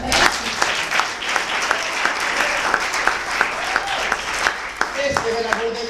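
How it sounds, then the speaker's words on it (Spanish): A church congregation applauds loudly and rhythmically, sustained clapping with regular accents, while voices call out over it and a speaker begins talking near the end. "Dele palmas al Señor."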